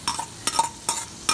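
Tomatoes tipped into a hot kadhai for kalya watanyache sambar, sizzling as they land, with three or four quick bursts of stirring and spoon scrapes in an uneven rhythm, close and clear with no talking.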